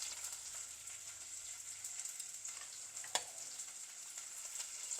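Mint and coriander sizzle in hot oil in a pan while cooking Hyderabadi chicken biryani, a soft steady frying hiss with a few small pops and one sharp crackle near the end, no talking.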